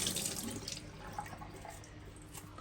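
Tap water runs steadily into a kitchen sink, a soft continuous splashing hiss that is fairly quiet throughout, with no voices.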